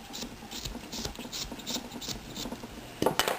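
A carving tool rasps steadily against a wooden figure, trimming the face in a quick rhythm of close, soft scraping strokes, a little louder toward the end.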